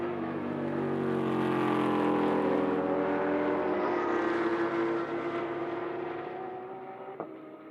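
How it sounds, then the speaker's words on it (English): A Vortex race car's V8 engine growls loudly down the back straight of a racing circuit, a sustained roar that shifts and gradually fades into the distance. "We'll give it a listen as we hear the V8 growl away."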